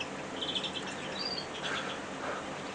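Greenfinches call from an aviary cage, a steady wash of faint chirps and twitters over a busy, noisy background.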